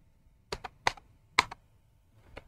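A few sharp computer keyboard keystrokes typed at the command line of a MikroTik x86 router install on a mini PC. The clicks come in separate bursts, close and clear, against a quiet background.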